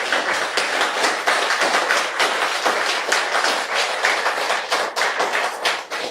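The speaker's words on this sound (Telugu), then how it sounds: "ఒక్కసారి జగద్గురు బ్రహ్మర్షి పితామహ పత్రిజీ గారికి గట్టిగా క్లాప్స్ చెప్తున్నాం" A crowd applauds loudly and steadily at a spiritual meditation gathering, many hands clapping in a dense, continuous patter with no voices over it.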